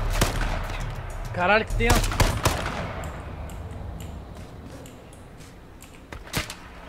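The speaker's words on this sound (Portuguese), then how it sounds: "Tomei tiro, mas eu dei tiro nele, com certeza." Gunfire in the battle royale game H1Z1: a burst of sharp, loud shots in the opening two seconds, then a lone crack near the end, while a player's voice exclaims over the action.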